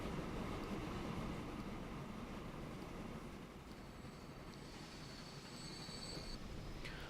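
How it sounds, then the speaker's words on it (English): Trains rumble steadily past in the Transport Fever video game on the Woodhead Line, a dense continuous roar with a thin metallic squeal rising near the end. "They've already seen the other 2 trains coming past."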